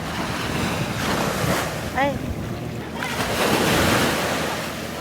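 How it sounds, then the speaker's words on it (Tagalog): Ocean surf washes steadily onto a beach on Boracay with wind buffeting the microphone; a person briefly exclaims partway through. "Ang ganda pa ng sound ng waves."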